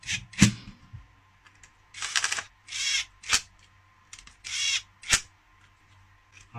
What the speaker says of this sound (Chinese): 上紧螺丝。